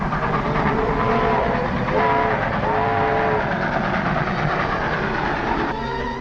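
A 1940s train bound for Omaha runs along the rails with a loud, steady rumble and rhythmic clatter, overlaid by a sustained tonal whine partway through, recorded with a dull, muffled top end.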